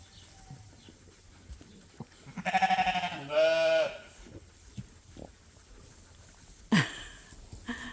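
A sheep bleats twice in close succession, loud and wavering, then a shorter bleat follows later amid quiet background noise; a ram calling to a ewe on a sheep farm.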